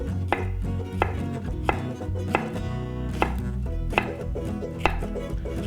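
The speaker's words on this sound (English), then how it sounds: "So I'm gonna chop these jalapenos." A knife chops jalapeno peppers on a cutting board in a home kitchen, with sharp, evenly spaced strikes roughly every two-thirds of a second over a steady low background hum, close and clear with no talking.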